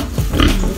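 A pregnant pig on a rural farm in Urbiztondo, Pangasinan grunts and snorts close by in a short, loud burst of rough oinking.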